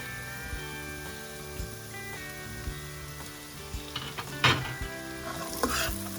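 Flattened rice (poha) is stirred in a hot pan, a low sizzle under a steady hum, with scraping spatula strokes and metallic clinks growing busier toward the end; no speech.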